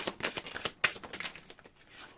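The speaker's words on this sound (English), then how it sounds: "Thank you. Last shuffle." Tarot cards riffle and flick in a quick, soft shuffle, close by, with a sharper snap partway through.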